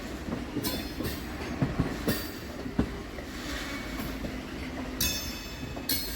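A Naihati–Bandel local train rumbles steadily along the tracks, curving left toward Bandel Junction, with rhythmic clicks and a few sharp metallic squeals and hisses rising over the continuous rolling noise.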